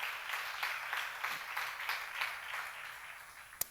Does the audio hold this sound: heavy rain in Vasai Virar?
no